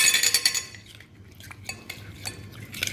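A metal spoon clinks and scrapes against a bowl while a Lahori chargha marinade with red food colouring is stirred, with quick bright clatters at first, then softer, scattered taps.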